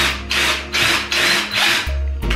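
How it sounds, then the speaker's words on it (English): A drill bores a bigger hole in a homemade skateboard bearing cleaning kit, making loud, close, rhythmic rasping and grinding strokes that repeat steadily and pause briefly near the end. "I'm going to drill a bigger hole now."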